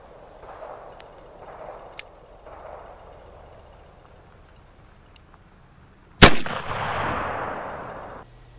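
Muzzleloader rifle fired once after being capped, a single sharp loud blast followed by a long roaring decay, preceded by faint rustling and small handling clicks.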